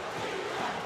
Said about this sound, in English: the entire crowd is on its feet, cheering Ivan